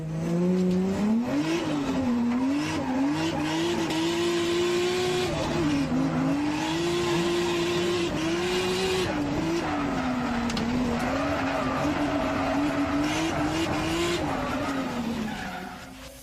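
An engine revs hard while tires squeal continuously in long, wavering screeches as a drift car slides and spins at Mizunami circuit, Japan, loud and close.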